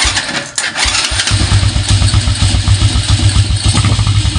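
A motorcycle engine cranks briefly after a Domino Honeywell switch is wired in, then catches and settles into a loud, close, rhythmic idle.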